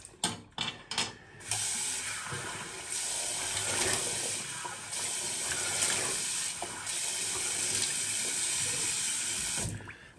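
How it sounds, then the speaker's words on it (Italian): Cold tap water runs into a sink for a rinse after a shave, opening with a few quick splashes before a steady, close hiss of flowing water that briefly breaks and resumes several times. "Sciacquatona di acqua fredda."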